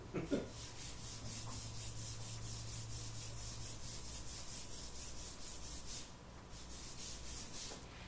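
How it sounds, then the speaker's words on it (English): Rhythmic back-and-forth rubbing of sandpaper on wood, using a belt sander as a hand sanding pad to flatten a face mask, a steady scratchy stroke pattern repeating about twice per second, with a brief pause near the end. "I'm just using my belt sander as a sanding pad to get it a little flatter"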